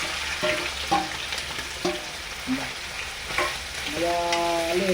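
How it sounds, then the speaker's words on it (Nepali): Marinated meat frying in hot oil, with a steady close sizzle, intermittent scrapes and clinks of a utensil stirring it, and a louder rising crackle near the end, with no talk. "मासु चाहिँ मजाले आधी घन्टापछि यसरी तेलमा फ्राई गर्ने।"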